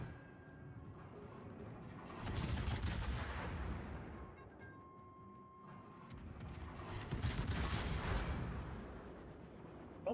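Naval guns booming in World of Warships, two long heavy salvos of rolling, thunderous fire with trailing rumble, loud and fairly close, separated by a quieter lull of ship ambience.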